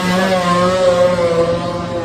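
A two-stroke race motorcycle at the Manx Grand Prix lightweight race screams past loud and close, a sustained high-revving buzzing wail with the pitch shifting as it goes by.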